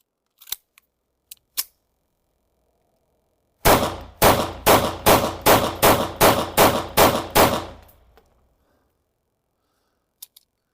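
A Browning BDA 380 pistol fires a rapid string of about ten sharp, loud, evenly spaced shots close by, preceded and followed by a few small mechanical clicks.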